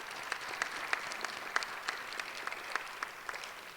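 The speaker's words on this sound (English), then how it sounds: "Could we give them a round of applause, please?" At a school spoken-word performance, a small audience claps faintly and sparsely, with distinct individual claps over a soft, distant background.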